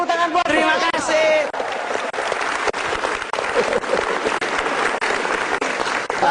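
An audience claps steadily at an Indonesian stand-up comedy show, a dense, continuous wash of applause throughout. A voice on microphone talks over the clapping.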